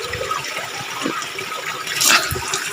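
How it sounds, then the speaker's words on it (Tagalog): Strong spring water rushing steadily from an underground source, a constant broadband wash with a brief louder surge near the end, heard close and alone. "kusog kayo ang tubig"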